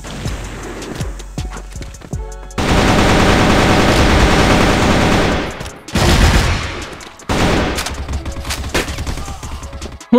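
Video game gunfire rips out in loud, rapid automatic bursts, with sustained volleys broken by short pauses and scattered single shots.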